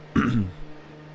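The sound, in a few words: coughing and throat clearing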